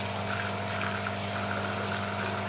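Mature water from a killifish tank is poured into a container, a steady close trickling and gurgling flow with a constant hum beneath it.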